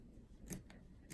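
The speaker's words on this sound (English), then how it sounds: "snip as close as I can to those placement lines" Scissors snip embroidery fabric close to placement lines: two or three quiet, sharp cuts spaced apart in an otherwise hushed room.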